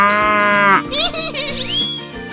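A cow in a 3D animal video game gives one long, loud, close moo that slides downward, followed by brief bleat-like animal calls and cartoonish chirps.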